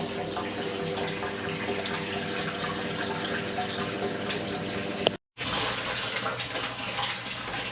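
Water drains steadily out of a Bradford White gas water heater toward a sump pump, a loud continuous rushing flow that cuts out briefly once and then resumes.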